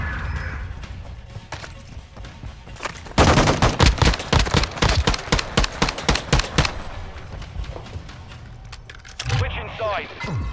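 Rapid bursts of video game gunfire crackle loudly through the middle of the match, dense volleys of shots with a brief pause before another burst at the end.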